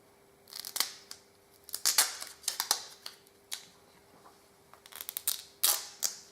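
Scissors snipping a thin sliver of duct tape, a series of sharp close clicks and snips in irregular clusters with quiet pauses between them.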